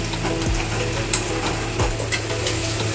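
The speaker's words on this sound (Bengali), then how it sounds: "গ্রেভিটা আমাদের ফুটে এসেছে" Butter chicken gravy bubbling and sizzling steadily in a pan, a continuous close frying hiss with a few soft clicks and knocks scattered through it, no voices.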